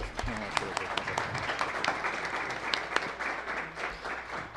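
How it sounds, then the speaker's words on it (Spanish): Applause from an audience thanking panelists after a film editing discussion panel, with steady moderate clapping and a few sharper claps standing out, while voices murmur underneath. "un aplauso para ellos"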